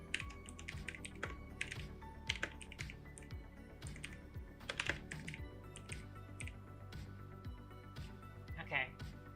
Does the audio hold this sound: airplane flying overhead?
no